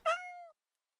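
A single clear cat meow, loud and close, rising then trailing off over about half a second before silence; the cat is being held up out of a box and is shivering.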